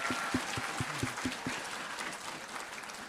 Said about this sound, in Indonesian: Mari kita berikan tepuk tangan sekali lagi untuk para Mastership Promotion hari ini.